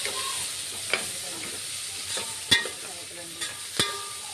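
Tomatoes frying and sizzling in a pan for paneer biryani give off a soft, steady hiss. A few sharp clicks of stirring against the pan break through it, and the whole sound is fairly quiet.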